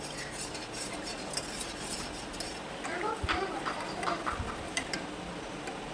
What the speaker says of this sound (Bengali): এবার আমি সসপ্যানটা বসিয়ে এটাকে জাল করে নিব আর চামচ দিয়ে এইভাবে করে একটু নাড়াচাড়া করে নিতে হবে